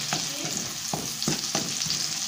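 Shallots and garlic frying in a pan, a steady loud sizzle broken by several clacking stirs of a utensil at irregular intervals, with nobody talking.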